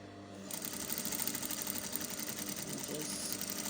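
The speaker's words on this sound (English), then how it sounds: "So put on my machine, and then I'm just going to go ahead and sew" A sewing machine stitches a dart on a wrap blouse, running in a steady, fast, continuous whirring hum close by, with no pauses across the stretch.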